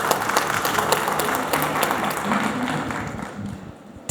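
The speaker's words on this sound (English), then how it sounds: "So can we have a big round of applause for our panelists" A conference audience in a hall at Index Saudi 2024 applauds panelists in a full, even wash of clapping that thins out and fades near the end.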